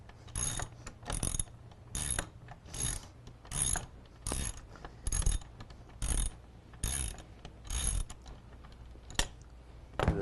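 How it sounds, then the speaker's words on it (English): Ratchet wrench loosening the bolts of a 1995–99 Chevy/GMC truck seat during a leather seat cover install, heard as about eleven evenly spaced bursts of close, sharp ratcheting clicks, each roughly half a second long, with no talk. "So these top 2, I have to get this one with the ratchet."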